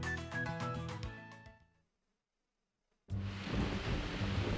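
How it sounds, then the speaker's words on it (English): Heavy rain with thunder in the farming game Story of Seasons: A Wonderful Life, a loud, dense rushing roar that bursts in after game music fades to a brief silence. "Heavy rains again, man."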